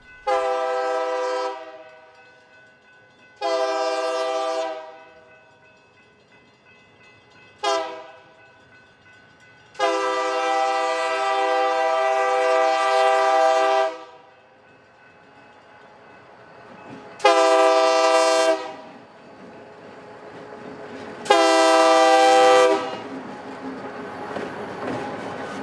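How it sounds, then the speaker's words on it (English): A freight train horn blows in a series of long and short blasts on a Southern California branch line, loud and close, with the low rumble of the passing train between them. "the train headed back with 3 empties."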